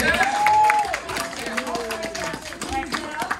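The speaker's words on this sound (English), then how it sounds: "Somebody give him a hand clap." Guests at a 50th golden wedding anniversary party clapping and cheering, a lively crowd with voices and whoops mixed over the applause throughout.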